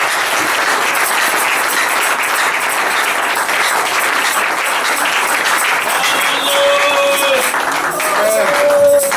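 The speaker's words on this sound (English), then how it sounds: "Let's give a clap offering to the kingdom." A church congregation gives a clap offering, with loud, sustained, dense clapping filling the room while faint tones and voices rise beneath it near the end.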